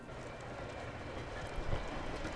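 A double-decker Metro train rumbles steadily close by, a low continuous roll of wheels on rails with a slight swell near the end.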